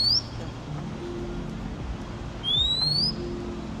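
A small, sparrow-sized bird in Hong Kong gives a shrill, high chirp, with one short note at the start and a longer rising call near the end, over a steady low rumble of city background.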